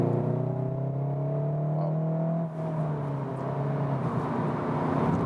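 A Seat Leon Cupra 300 manual front-wheel-drive hatch accelerates hard in third gear, its engine drone rising steadily in pitch from inside the cabin, with a brief dip at a gear shift before pulling on.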